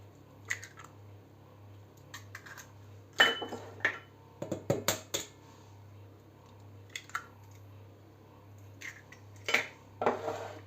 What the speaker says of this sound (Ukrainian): І все гарно розмішуємо.